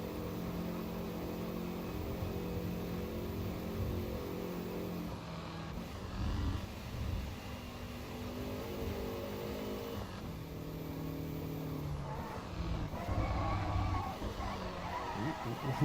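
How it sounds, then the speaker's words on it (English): Steady engine drone with rising and falling revs and a turbo whistle, a racing car driven continuously on the Nordschleife in the video game Assetto Corsa EVO, with brief tire squeals. "Nice turbo noises."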